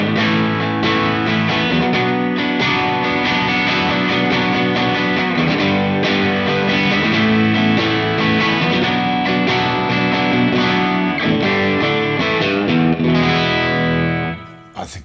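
Electric guitar played through a boutique overdrive profile on a ToneX unit, a continuous distorted strummed and picked passage, loud and saturated, ringing out alone before cutting off at the end.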